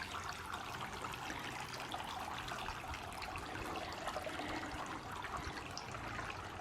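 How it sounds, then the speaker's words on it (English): A solar-powered garden water feature trickles continuously, a steady close splashing wash with no pauses or changes. "cannot recommend solar water features any more highly"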